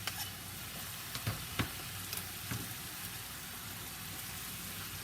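Tomato goes into a pan of nearly cooked beef for bistec con papas, and a steady close sizzle of frying fills the pan, broken by a few faint clicks and taps.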